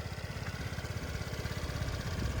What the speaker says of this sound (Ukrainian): Така тихенька робота двигунчика мені подобається.